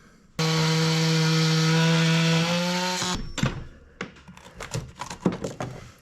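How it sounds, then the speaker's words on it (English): A power saw cuts off a small pointed wooden miter inside a wooden boat during rotten bulkhead repairs, running loud and steady for about three seconds, then stopping with clattering, knocking handling sounds after. "So I'm going to cut that little pointy miter off"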